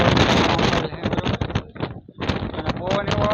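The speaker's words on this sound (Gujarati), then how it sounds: "કારણ કે હવે તો પવન આવે છે" Wind buffets a mobile phone microphone wrapped in a plastic bag outdoors at Girnar, Junagadh. Loud, rumbling gusts dip briefly, then return, with a voice talking over the roar near the end.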